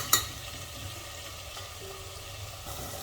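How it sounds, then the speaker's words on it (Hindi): Pieces of tinda (apple gourd) are stirred and fried with tomatoes in a pan, giving a quiet, steady sizzle with a brief clink of the spoon at the start. "अब टमाटरों के साथ भी टिंडों को भून लेंगे इस तरह से चलाकर"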